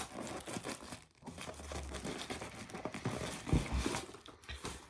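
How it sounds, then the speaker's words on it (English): Stuffing paper crinkles and crumples as it is pulled out of a black Christian Louboutin Louis Junior sneaker, in a continuous close rustle with a few sharper crunches and light thumps, and no talking. "Take this paper out."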